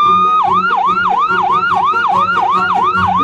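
A toy ambulance wails with a rapid electronic yelp siren, pitch sweeping up and down in a steady repeating cycle, loud and close, with a faint motor rattle beneath.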